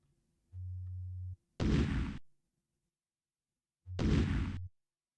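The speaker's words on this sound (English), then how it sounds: "The explosion disables the force field generator." Space Quest III game explosion that disables a force field generator: a low electronic drone, then a loud noisy blast burst, repeated twice with silence between, no talking.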